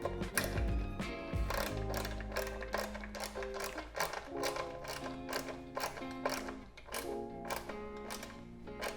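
Rapid ratchet clicks tightening a fastener while wiring a Honda CB200T motorcycle, quick metallic ticking runs close by with short pauses between strokes.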